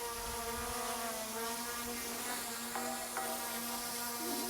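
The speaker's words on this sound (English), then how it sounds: "It's pretty quiet for a drone." A VCopter Falcon Mini, a 249-gram drone, hovers outdoors in a light breeze, giving a steady, fairly quiet, high-pitched insect-like whine of buzzing propellers that holds unbroken throughout with small shifts in pitch and no talking.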